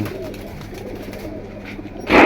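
Pigeons kept in a collection for sale coo softly and repeatedly close by, with a low rolling rhythm and a louder rustle or flutter right at the end.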